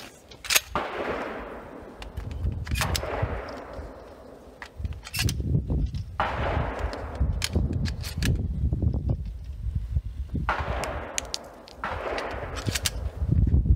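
Shotgun blasts during defensive shotgun training outdoors, four loud sharp reports spaced a few seconds apart, each followed by a decaying echo, with brief handling noises between shots.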